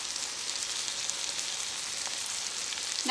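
Onions and vegetables sauté in a pan for a keto chicken pot pie, giving a steady, even frying sizzle throughout with no talking.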